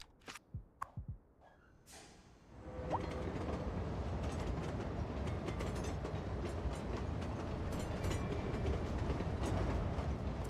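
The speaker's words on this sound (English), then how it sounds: "There's the passenger train," Passenger train rushing past in the city-building game Cities Skylines 2, a steady loud rumble with rhythmic rail clatter that swells after a few brief clicks at the start and holds to the end.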